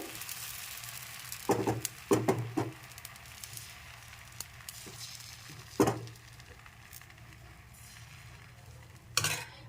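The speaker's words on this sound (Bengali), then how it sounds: "হাতায় করে এক হাতা ব্যাটার দিয়ে এভাবে আমি সরু চাকলিগুলো ভেজে নেব" Sarucakli rice-batter pancakes frying in a pan, a faint continuous sizzle broken by occasional clusters of ladle and pan clatter, a few louder knocks near the start, middle and end, heard close up.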